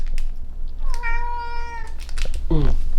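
A cat gives a long, loud, drawn-out meow, followed by a shorter, rising second cry, with a person's voice and background noises around it.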